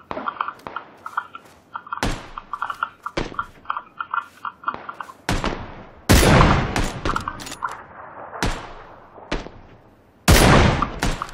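Repeated gunshots in the battle-royale game PUBG: sharp single cracks spaced through the clip, several loud close blasts toward the end, with clicking and movement sounds between them.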